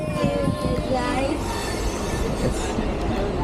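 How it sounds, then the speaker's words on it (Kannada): A train rumbles and screeches steadily on the rails nearby at Chennai railway station, with high metallic squeals drifting over a constant low roar and faint background voices. "ನಾವು ಇವಾಗ ಚೆನ್ನೈ ರೈಲ್ವೆ ನಿಲ್ದಾಣಕ್ಕೆ ಬಂದಿದ್ದೀವಿ"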